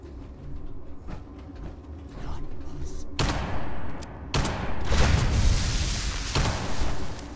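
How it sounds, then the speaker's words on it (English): Fireworks in the Fallout video game burst in sharp loud booms and crackling volleys, with a dense sustained crackle in the second half over a low rumble. "I love the fireworks. I really do. It's so unrealistic and I love it."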